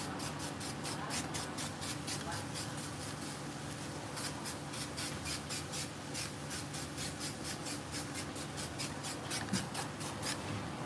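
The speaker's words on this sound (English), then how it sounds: "now you take your adhesive and you spray one more layer" Adhesive spray hisses from a can onto a glitter coaster in a steady series of quick rhythmic bursts, faint and close over a continuous soft background hiss.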